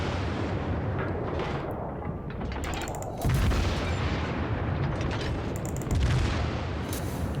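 Heavy naval gunfire in a World of Warships battleship match, with HMS Warspite, a Royal Navy battleship, trading shots: a continuous dense rumble of cannon blasts and shell impacts, with louder booming hits near the middle and the end.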